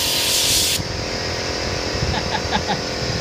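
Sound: air compressor running while spraying rubberized undercoating

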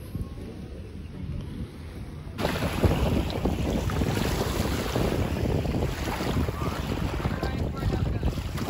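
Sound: kayaking on the water

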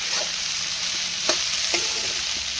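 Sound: okra being tempered and fried in a pan

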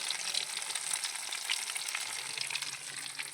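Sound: egg frying in hot oil, sizzling

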